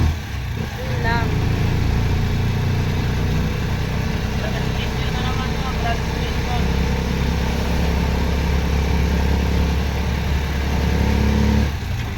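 A vehicle engine runs slowly with a steady, close drone the whole time, and any intermittent problem noise is hard to pick out beneath it.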